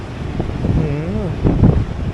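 Strong wind buffets the top of a lighthouse on the Great Ocean Road, rumbling steadily and close to the microphone while a voice is heard briefly.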